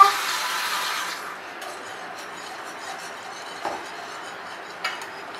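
Semolina pudding mixture being stirred in a pot, a soft continuous scraping and rubbing of a spoon that fades after the first second into quiet, with a couple of faint clinks of utensil against the pot.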